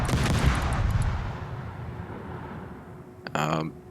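Naval gunfire in World of Warships: heavy booming cannon blasts with a long rumbling decay, followed by a short voice near the end.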